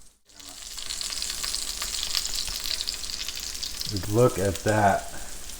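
Rice fried with kielbasa, kimchi and tortilla strips sizzles steadily in a pan, with a voice speaking briefly over the frying toward the end.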